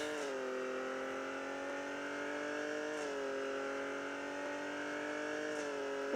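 A car accelerates steadily through its gears, its engine droning at a sustained pitch that climbs and then drops at each shift, heard from inside without speech.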